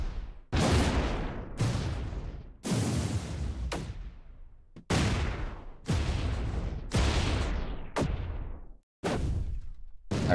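Explosion sound effects from the PRPL video game play one after another, about nine loud, booming blasts, each a sharp broadband burst fading into a rumbling tail before the next.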